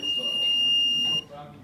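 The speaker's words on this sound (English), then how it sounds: "a buzzer goes on and a siren from an LED RGB goes on red and blue" A fire-detecting robot car sounds a single steady, piercing buzzer tone for about a second before cutting off, with a voice talking underneath.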